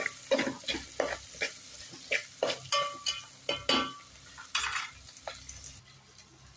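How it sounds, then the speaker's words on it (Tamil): Chili and coriander powder being sautéed in a pan for mochai kulambu, a gentle sizzle under repeated scraping strokes of a spoon against the pan, rhythmic and close, with occasional light metallic clinks and no talking. "இது சேர்த்து நல்லா வதக்கிக்கலாம்."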